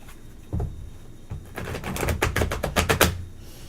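Tarot cards are shuffled by hand: a couple of soft taps, then a brisk fluttering riffle of closely spaced card slaps lasting about a second and a half, close and moderately loud, with no talking.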